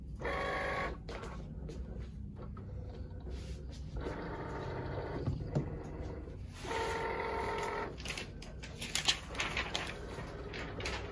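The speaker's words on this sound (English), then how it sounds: "now that our design has finished cutting, we're going to remove it from our machine" A vinyl cutting machine cuts a design from iron-on printable heat transfer vinyl, with bursts of whirring, buzzing motor movement starting and stopping over a soft background hum, moderately close.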